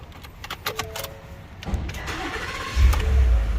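A 2018 Ford F150 truck with a 5.0L engine in a garage cranks briefly with a few clicks and whirs, then catches and settles into a steady low idle, fairly close and loud.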